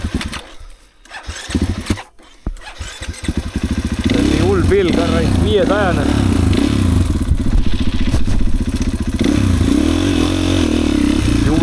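A motorcycle used on a race track starts with a rough clatter and settles into a loud steady engine drone with revving, while someone speaks over it.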